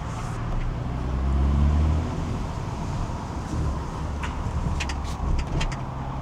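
A Volkswagen Scirocco with a swapped-in R32 engine pulls away on a first drive, its low engine rumble rising briefly then settling into a steady drone with road noise and light rattles, close inside the car.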